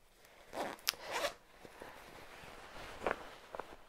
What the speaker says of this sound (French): alors là, elle est ouverte, une fermeture éclair